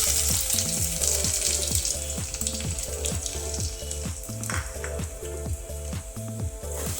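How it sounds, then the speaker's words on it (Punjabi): Cumin, finely chopped ginger and garlic sizzle in hot oil, making a steady, soft crackling hiss that runs throughout beneath a rhythmic melodic background. "ਤੇਲ ਗਰਮ ਹੋ ਗਿਆ ਤੇਲ ਦੇ ਵਿੱਚ ਆਪਾਂ ਜੀਰਾ ਪਾ ਦਵਾਂਗੇ ਜੀਰੇ ਨੂੰ ਤੜਕ ਲਿਆ"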